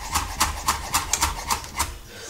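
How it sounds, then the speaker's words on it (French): Knife chopping chives, basil and parsley finely on a board, a steady rhythm of crisp, evenly spaced taps, close and fairly quiet. "On va hacher les herbes finement."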